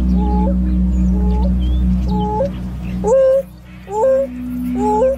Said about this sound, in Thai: หมาป่าแอฟริกาสามารถส่งเสียงได้ไกลเป็นพิเศษครับ